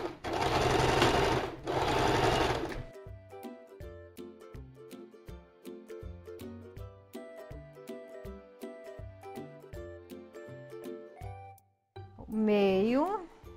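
A sewing machine stitches a fabric strap for a face mask in two loud, steady bursts of running, with hand-handling noise between them and a voice speaking in Portuguese partway through.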